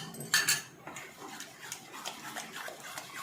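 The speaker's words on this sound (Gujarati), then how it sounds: "હવે આપણે 1 ચમચી ટાટાનો સોડા અને એની ઉપર 1 લીંબુનો રસ છે એ નાખીને બરાબર હલાવીશું" A spoon stirs handvo batter after soda and lemon juice go in, starting with a sharp metallic clink, then soft, rhythmic scraping and sloshing strokes at close range.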